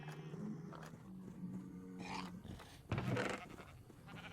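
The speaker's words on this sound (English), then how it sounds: "I wonder if we're allowed to shear these sheep." Sheep bleat in a Minecraft modpack game, several rough, wavering calls at a low level with no talking over them.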